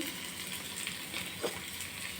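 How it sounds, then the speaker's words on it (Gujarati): A cutlet mixture sautés in a pan over a high gas flame, giving a soft, steady sizzle with faint stirring scrapes. It stays fairly quiet and close throughout. "અને આને હવે ફાસ્ટ ગેસે 1-2 મિનિટ સાતળવાનું છે."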